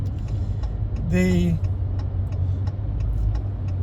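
Cars rolling past in a line of traffic, a steady low rumble heard from inside a vehicle, with a brief tonal whine partway through and voices murmuring over it.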